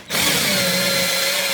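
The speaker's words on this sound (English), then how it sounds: "I pre-drill the baseboard with a 7/64 drill" A drill with a 7/64 bit bores a pilot hole into a wooden baseboard, giving a short, steady, close whine that starts abruptly and holds at an even pitch with no voices.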